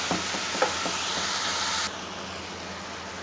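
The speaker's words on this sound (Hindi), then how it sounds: "तो अब इसके अंदर हम ऐड करेंगे घिया तोरी। और इसको हम करेंगे अच्छी तरह मिक्स मसाले के अंदर" Bottle gourd and ridge gourd stirred into hot masala in a pan, a loud steady hiss of sizzling steam that drops suddenly to a quieter simmer, with a few faint clinks.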